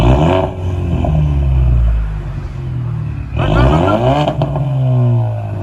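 A Ford Mustang with aftermarket exhaust tips and a rear diffuser revs loudly up close, two sharp throttle blips rising and falling over a deep rumbling idle, with no one talking.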